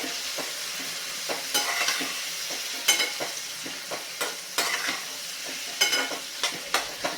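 Washed cluster beans (gavar) tossed into hot oil and mixed in a pan, giving a continuous bright sizzle broken by frequent quick scraping strokes of the spatula, close and fairly loud, with no voices.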